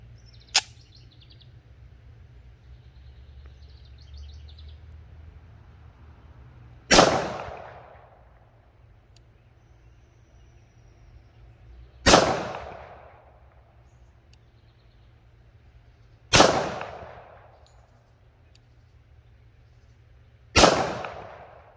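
Nighthawk Custom 1911 pistol, GA Precision model, fired on a range: five sharp, loud gunshots spaced several seconds apart, each ringing out briefly in otherwise quiet surroundings.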